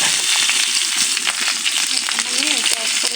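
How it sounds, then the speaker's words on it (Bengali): Whole dried chillies fry in hot oil with a steady, close sizzling hiss, broken by a few sharper crackles and the scrape of stirring. "তেলের গরমে এই লঙ্কাগুলো ভেজে নেওয়া হয়ে যাবে"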